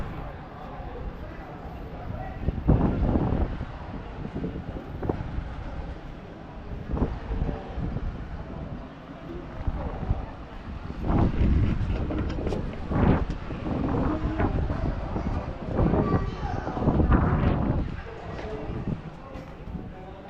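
Wind blows hard across the top of a high viewing point at Patuxai in Vientiane, a steady roar with strong gusts buffeting the microphone, while a voice talks faintly underneath.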